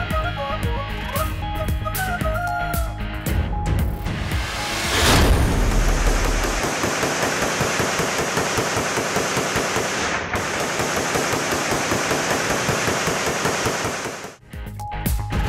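Rapid aerial gunfire from party workers celebrating an election win in Taxila, fired in volleys. Sharp cracks and booms run through the whole stretch, loud and fairly close, over a dense crowd din.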